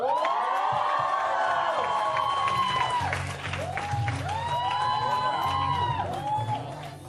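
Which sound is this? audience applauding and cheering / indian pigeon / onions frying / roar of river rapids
audience applauding and cheering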